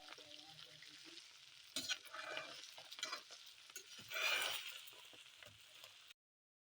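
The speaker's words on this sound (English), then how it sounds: "Add 1 teaspoon Kashmiri chili and fry a little more." Spices with Kashmiri chili fry in a pan for a beef nihari with marrow, a faint crackling sizzle broken by spoon stirs and a brief louder burst of hissing.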